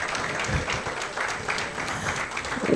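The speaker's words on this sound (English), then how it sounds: "I think it deserves a better round of applause." Steady applause from a conference audience at the Digivation Future Summit, many hands clapping at a fairly even, moderately loud level throughout, with a faint voice near the end.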